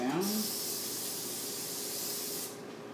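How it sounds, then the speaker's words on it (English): A long, close hiss of vegetable oil cooking spray coating a cake pan, steady for over two seconds before cutting off. "I'm going to use vegetable oil cooking spray."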